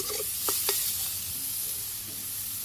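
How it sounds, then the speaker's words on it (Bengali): Leafy greens with green chillies fry in oil in a pan, a quiet, even sizzle with a couple of sharp utensil taps early on, close and without talk. "শাক ভাজি করা হয়ে গেছে।"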